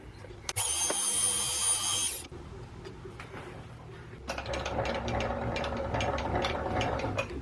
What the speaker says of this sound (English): so now I'll drill it 5mm down to here